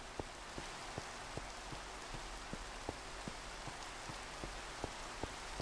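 Steady rain in a video game hisses as a soft, even wash, with sharp little drop ticks striking at a regular rhythm over it, faint and uninterrupted with no voices.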